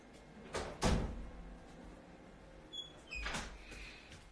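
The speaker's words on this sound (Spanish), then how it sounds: "Déjenme cerrar la puerta." A bedroom door is pushed shut at close range, with a solid thump followed by a quieter latch knock a few seconds later in a small indoor room.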